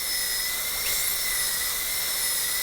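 A high-speed dental handpiece whines steadily with a burr cutting a Class II tooth preparation, a continuous piercing tone held throughout at close range with no pauses.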